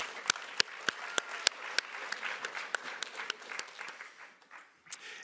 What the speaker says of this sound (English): we can clap to that.